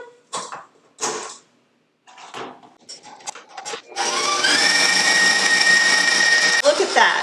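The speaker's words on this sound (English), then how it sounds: "now we're gonna beat that with the whisk attachment until good and fluffy" A stand mixer with a whisk attachment beats cheesecake batter, starting after a few seconds of scattered talk and then whirring loudly and steadily to the end.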